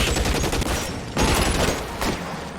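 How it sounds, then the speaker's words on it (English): A Tommy gun fires in the L.A. Noire video game in loud, dense bursts of automatic fire, with two short gaps between the volleys. "What kind of gun is that? Tommy gun?"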